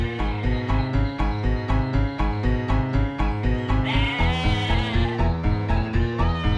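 Cartoon sheep bleat in wavering, voice-like calls over a steady, rhythmic musical backing that runs throughout, with the bleats most distinct in the second half.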